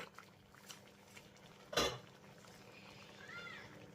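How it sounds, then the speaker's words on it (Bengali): A pot lid lifted off tomatoes cooking down for homemade tomato sauce gives one short, bright metallic clatter midway, over a quiet kitchen background with soft bubbling. "এবার ঢাকাটাকে তুলে নিচ্ছি"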